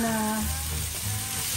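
Marinated pork sizzles loudly as it hits a hot pan for Filipino menudo, with a steady close crackle of frying and some stirring.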